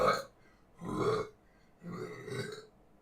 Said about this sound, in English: I'm about to burp my ass out.